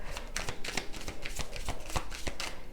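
Tarot cards shuffled by hand at close range, a steady train of soft snapping card slaps in quick rhythm, moderately quiet with no talking.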